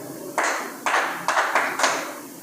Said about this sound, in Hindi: भाई साहब बजाइए ताली